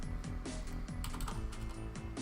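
Rapid, close key presses on a computer keyboard while a number is typed into a field, with irregular clicks over a low background hum and no talking.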